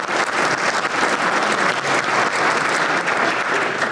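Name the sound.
applause at a breakfast forum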